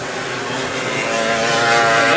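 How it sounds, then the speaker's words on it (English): A racing kart engine at a kart club championship heat, its exhaust a loud, buzzing, steady drone that builds slightly, heard close and alone without talk. "you can hear his exhaust from a mile away"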